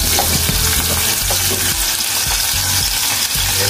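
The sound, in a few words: garlic, onion and lemongrass frying in a pan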